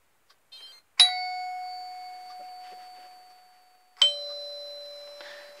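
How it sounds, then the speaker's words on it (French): Two electronic ding-dong chimes from a badge reader on a door with an electric strike, a few seconds apart, each ringing out clearly and decaying slowly in a quiet room. "le ding dong, ça correspond à la mini gâche électrique fixée sur la porte"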